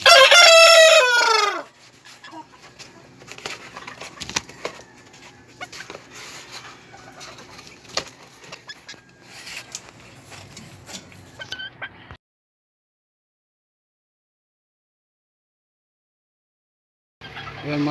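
Sebright chickens in their coop, with a loud rooster crow at the start followed by faint scattered clucks and rustling, then near silence before another loud burst near the end.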